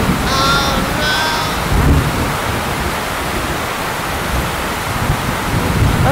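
Heavy rain pouring down on a cattle farm, a dense steady hiss filling the scene, with brief animal bleats early on.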